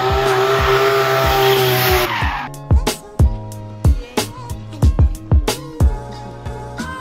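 A BMW E82 135 race car with an M1-style body kit and a 2JZ engine roars loudly with squealing tires, then breaks into a series of sharp, repeated engine revs and pops at close range.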